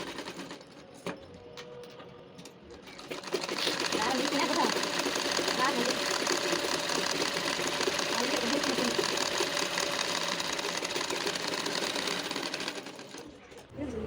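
Sewing machine stitching a blouse, a steady loud mechanical whir running continuously after a quieter start, with someone talking over it at times.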